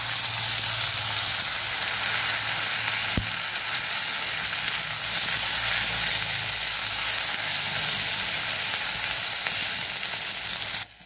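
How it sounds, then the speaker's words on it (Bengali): Drumstick flower paste with chilli and garlic frying in hot oil in a kadai, a steady close sizzle that runs unbroken throughout with a single sharp knock partway through. "এবার এতে দিয়ে ভেজে নেব"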